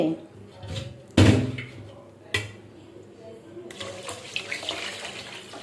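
Water poured into a cooking pot of broken rice with onion, chilli, oil and salt lands as a loud, brief splash, then a second knock and a softer, continuing rush of water.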